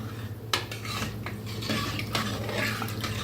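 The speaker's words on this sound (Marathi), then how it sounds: "पुन्हा मिक्स करूया डाळीला" Spoon scraping and clinking against a metal pot while thick cooked dal with added water is stirred, with a few sharp knocks and a low steady hum beneath, close and moderately loud, no talking.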